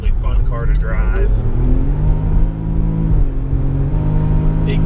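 A Range Rover SUV engine hums and builds as the vehicle accelerates toward highway speed, a loud, continuous cabin drone with voices talking over it.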